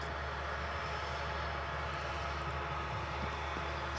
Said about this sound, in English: Here's our Turkish Airbus.